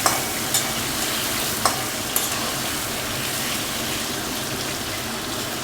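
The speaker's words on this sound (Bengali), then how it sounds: "আমি বেগুনে এখন কোনো রকম লবণও দেবো না, কিচ্ছু দেবো না বন্ধুরা। জাস্ট শুধু একটু ভেজে তুলে নেব।" Eggplant pieces frying in hot oil in a pan, a steady, loud sizzle throughout with a few sharp clinks of a utensil against the pan, no talking.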